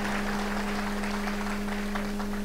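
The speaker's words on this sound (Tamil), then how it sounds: "இன்னும் கூட கைத்தட்டலாம்" Audience clapping during a Tamil motivational speech, a steady dense patter of many hands running through the whole moment with no voices, over a constant low electrical hum.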